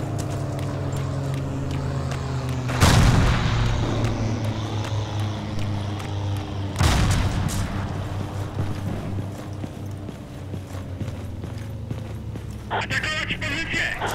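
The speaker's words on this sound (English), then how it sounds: "I saw a German grenade explosion like a few seconds ago." Two sharp, loud grenade-like blasts a few seconds apart in Forgotten Hope 2, each decaying over a steady engine-like drone, with a rapid burst of crackling fire near the end.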